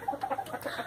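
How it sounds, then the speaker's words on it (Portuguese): A golden rooster and a buff hen cluck close by in a chicken coop, giving a quick run of short, nasal clucks in a burst under a second long. "esse casal aqui, que é o galo dourado e aquela galinha camurça"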